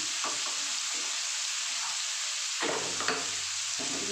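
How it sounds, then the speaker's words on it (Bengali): Paneer pieces fry gently over a low flame with Kashmiri chilli and turmeric, a quiet continuous sizzle with occasional stirring scrapes, louder around the three-second mark. "আমি একদম কম স্টিমে আমি এগুলোকে ভালো করে ভেজে নেব।"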